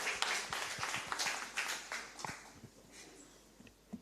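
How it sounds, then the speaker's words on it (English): Light applause at a women in financial markets conference for a speaker, scattered claps of a small audience near and far, fairly quiet and thinning out over a few seconds. "A round of applause for her."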